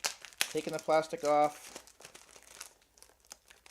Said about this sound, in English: So we're taking the plastic off